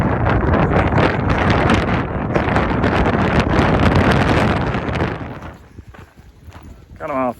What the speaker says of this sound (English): It's really windy. You probably couldn't hear it too well.